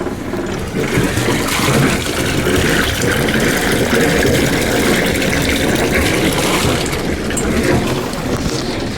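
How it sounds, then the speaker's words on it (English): Steady rushing, splashing water runs continuously from the engine exhaust of a Catalina 400 Mark II sailboat, with a low engine rumble underneath, loud and close throughout. "Always got to make sure there's water coming out of the exhaust."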